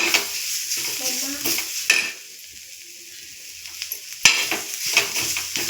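Onion chutney is mixed in a hot pan, with brisk spoon scrapes and stirring over a light sizzle, a short quieter pause, then a sharp knock and more stirring, close and clear.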